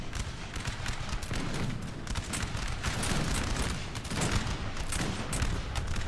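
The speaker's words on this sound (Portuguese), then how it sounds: "Não para de atirar, não." Dense, continuous crackle of musket volleys from Napoleonic-era line infantry in the Total War battle game, many shots overlapping into a steady roar with no breaks, heard without any talk.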